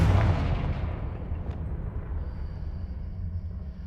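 Confringo spell blasts in Hogwarts Legacy: a heavy explosive boom at the start that rolls into a long, fading low rumble, with a faint high tone lingering behind it.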